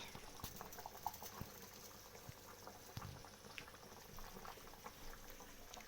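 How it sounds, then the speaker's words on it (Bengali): Mutton curry boils in a pot, a faint, steady bubbling simmer with small pops and clicks running throughout, no voices over it. "দেখুন এদিকে মটন রান্না হচ্ছে"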